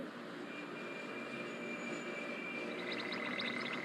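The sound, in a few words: train in a cartoon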